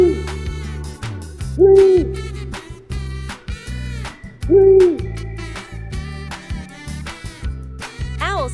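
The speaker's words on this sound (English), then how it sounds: "Owl." An owl hoots twice, each call a loud, smooth tone a few seconds apart, set against cheerful background music.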